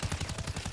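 Rapid gunfire in a shooter video game, a quick rattling burst of about eight evenly spaced shots, fairly quiet and brief.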